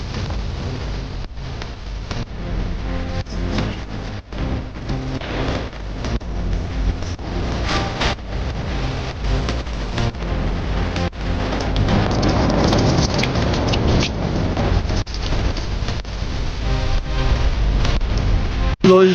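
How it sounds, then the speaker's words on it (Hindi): Heavy rain pours down in a village during a storm, with wind blowing through it, making a dense and continuous outdoor roar at a loud level without any clear voices. "ये आ गई बारिश आ गई और हवा तो चली रही काफ़ी देर से"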